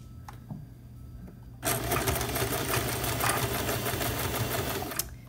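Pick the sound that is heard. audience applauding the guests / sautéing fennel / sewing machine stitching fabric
sewing machine stitching fabric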